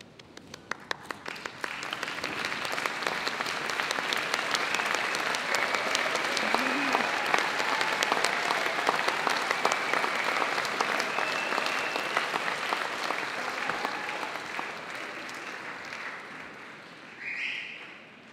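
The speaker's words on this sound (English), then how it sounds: "join me in giving them a well-deserved round of applause" A graduation audience at Birmingham City University stands and applauds friends and families, dense sustained clapping from a large crowd that swells quickly, holds steady, then fades near the end.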